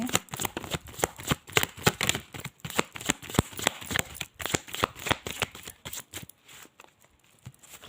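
Tarot cards shuffled by hand in a steady run of crisp riffling flicks, close and fairly quiet, easing off toward the end with no voices.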